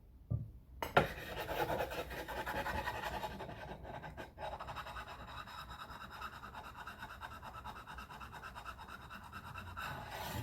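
Stainless steel guitar frets on a Gretsch are smoothed with a diamond file, giving a soft, continuous rasping and rubbing close up, with a few sharper scrapes at the start and steady strokes throughout.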